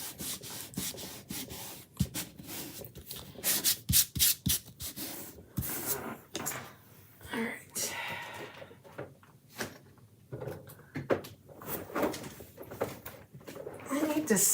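Hand rubbing down a Chalk Couture transfer onto a surface, with close, scratchy rubbing strokes in irregular bursts, some sharp and loud, and faint voice sounds between them.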